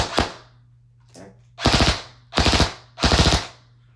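A Lancer Tactical M16A4 electric airsoft rifle shooting BBs: one sharp single shot, a faint short burst, then three loud rapid-fire bursts in quick succession, close up over a steady low hum.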